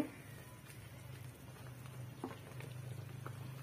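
Goat curry with turmeric and spices bubbling in a pot, a steady low simmering burble with soft irregular pops and spatters, close and continuous throughout with no talk.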